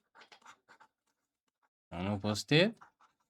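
A pen or chalk writing an answer during a math lesson makes a few quick, faint scratchy strokes in short bursts, followed by a brief stretch of clear speech and one last soft scratch.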